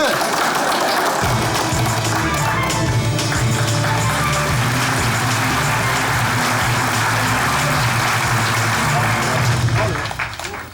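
Studio audience applauding and cheering on a Turkish comedy sketch show stage, a dense, loud, steady wash of clapping that holds for about ten seconds before tapering off at the end, with a low tonal hum running underneath.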